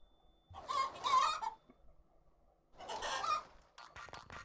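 Cartoonish chickens cluck in the party game Party Panic, two bursts of squawky clucking and a third, followed by a short scrabbling flurry, all fairly loud and close with no voices over them.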